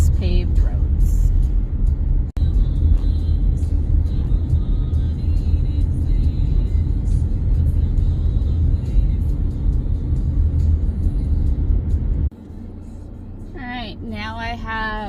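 Car rolling along a smooth paved road in a state park, a steady low interior rumble and tyre drone that carries on without a break before it drops away near the end, where a voice speaks briefly.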